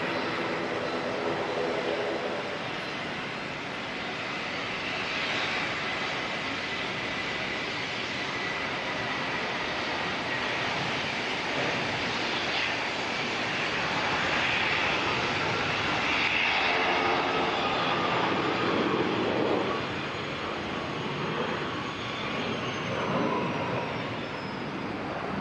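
Jetstar 134 jet taking off from Auckland Airport bound for the Gold Coast, a long broad engine roar that swells toward the middle and stays strong, with a faint high whine sliding across, no voices.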